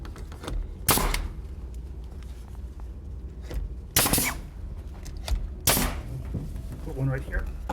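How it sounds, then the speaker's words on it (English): A nail gun fires nails into a wooden fireplace mantel, with three sharp, loud pneumatic bangs spaced a few seconds apart over low room noise and faint background talk. "using the nail gun."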